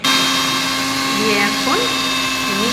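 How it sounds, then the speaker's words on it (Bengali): A kitchen mixer grinder runs with its jar full of dry, fried white sesame seeds and no water: a loud, steady motor whine with a constant pitch and a few brief shifts in tone. "মিক্সিতে জল না দিয়ে গুঁড়িয়ে নিলাম"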